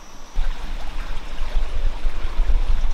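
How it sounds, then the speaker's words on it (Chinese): A lidded clay pot of tofu stew with cabbage and enoki mushrooms bubbles and simmers with low, steady gurgling and soft popping, close up, starting abruptly and continuing without talk. "咕嘟咕嘟咕嘟咕嘟的冒热气在煮"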